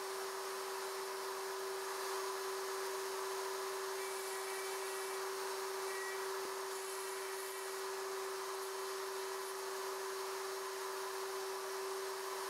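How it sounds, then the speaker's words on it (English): A router cuts box joints in boards on a Leigh RTJ400 jig, giving a loud, continuous high-pitched whine that holds steady for the whole stretch. "Continue routing in all comb openings."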